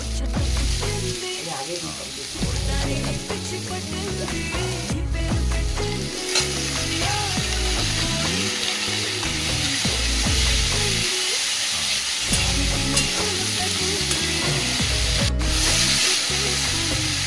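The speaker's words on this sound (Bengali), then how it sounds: "এখন আমি এই আলু দিয়ে দিলাম, এখন একটা নাড়াচাড়া করে একটু ঢাকা দেবো" Potato pieces dropped into a pan of frying onion and stirred for a Bengali potato fry, with a loud, constant sizzle broken by repeated rhythmic scraping of a spatula close by.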